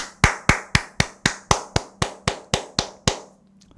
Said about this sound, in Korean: 우리 한번 박수 한번 칠게요